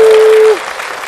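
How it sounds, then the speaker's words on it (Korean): Church congregation at a 120-year-old Korean church applauding and cheering during a visit, a loud, dense wash of clapping that cuts off partway through, with a steady tone over it at first. "정말 열정이 대단하십니다. 환호도 대단하시고요."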